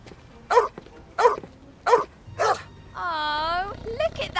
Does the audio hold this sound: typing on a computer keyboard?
no